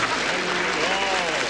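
Warm audience applause fills a theatre at Liseberg, a dense steady wash of many hands clapping, with a faint voice murmuring underneath.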